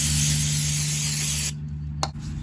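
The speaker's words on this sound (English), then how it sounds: "We got some brake parts cleaner and a brand new rag." Brake parts cleaner sprayed from an aerosol can onto a metal surface during rear end fluid and filter service on a Yanmar 1500D tractor: a loud steady hiss for about a second and a half, then a short final spurt.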